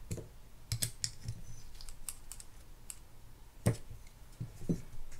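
Small parts pop off a Lew's Mach Crush spinning reel being taken apart for service, giving a scattered series of light, sharp clicks and snaps at close range, with no speech.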